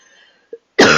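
A person gives a single short cough after near silence, followed by a louder, longer burst of coughing or throat clearing close to the microphone, with no talk.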